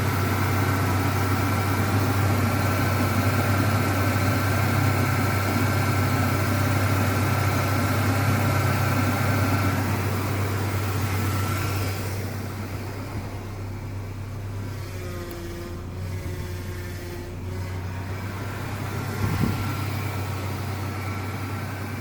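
A Ford truck idles with a loud power steering pump, producing a steady low engine drone and a constant whining hum that eases slightly partway through, close and continuous with no talking.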